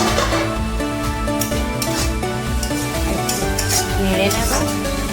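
Mushrooms frying in a pan and being stirred, with a constant sizzle under repeated scraping and clinking of a utensil against the pan, close by, plus a faint voice in the background.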